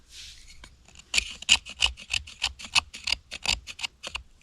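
Knife blade shaving hard, tough fatwood, giving a series of short, crisp rasping scrapes in an uneven rhythm, close and fairly loud, with no talk.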